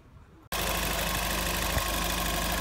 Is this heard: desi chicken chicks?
no